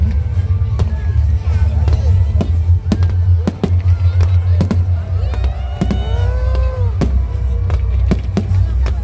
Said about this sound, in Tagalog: para makapag-focus tayo sa pag-video dito sa fireworks display